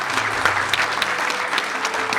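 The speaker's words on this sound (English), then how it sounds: "Round of applause for the fan questions," An audience at a Metal Gear voice-actor panel applauds a round of fan questions: dense, steady clapping throughout, close and fairly loud, with no talking over it.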